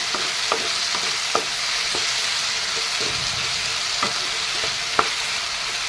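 Tomatoes and green peas frying together in a pan, with a steady broadband sizzle throughout and several sharp spatula scrapes and taps at irregular intervals, close and fairly loud, with no talking.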